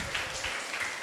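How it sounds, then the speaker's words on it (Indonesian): A campus career-day audience gives a brief burst of applause, a short, dense patter of clapping lasting about a second at moderate level. "Tepuk tangan."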